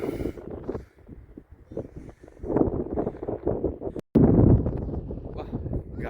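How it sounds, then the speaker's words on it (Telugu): A strong, cold wind on a hilltop in Ooty buffets the microphone in heavy, uneven low rumbling gusts, with a brief dropout partway through before the roar returns. "గాలి విపరీతంగా వేస్తుంది చల్లని గాలి"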